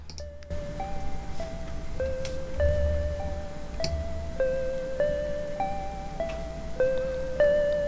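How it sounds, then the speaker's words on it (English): Piano notes in Ableton play a steady melodic line with clear, sustained tones, and a faint crackle sits on the keys beneath them. The playing runs throughout with no talking. "So you can kind of hear that little crackle sound with the piano keys."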